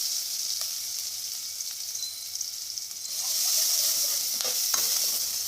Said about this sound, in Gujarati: હવે ગેસ બંધ કરી અને આદુ મરચાં અને લસણની પેસ્ટ ઉમેરીશું